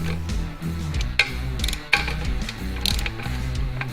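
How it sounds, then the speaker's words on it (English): A torque wrench tightens bolts on a limousine build, ratcheting in rhythmic clicking bursts with a couple of sharp metallic clacks, close and fairly loud. "Now we go around the whole thing with a torque wrench."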